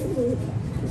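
A single short, soft pigeon coo from a racing pigeon, brief and fairly faint against quiet background noise.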